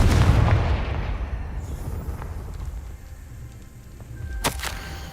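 A Confringo spell blast in Hogwarts Legacy booms loudly at the start and rumbles away into a fading tail, followed later by a brief sharp crack.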